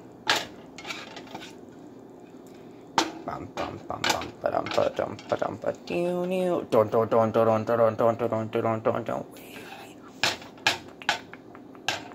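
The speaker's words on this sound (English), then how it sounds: "you're going to want to take your spatula and just move it around" A spatula scrapes and pushes food around a hot pan in a home kitchen, with clattering metal knocks and a sizzling stretch, heard close under casual talk.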